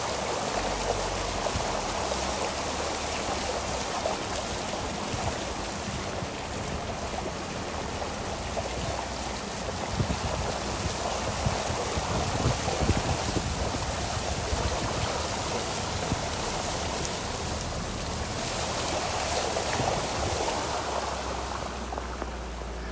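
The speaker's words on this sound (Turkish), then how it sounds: "yok böyle bir yağmur, yok böyle bir sel" Flood water rushes along a damaged road after heavy rain near Geyve, Turkey, a loud continuous churning roar of fast-flowing water with gurgling surges, steady and close throughout.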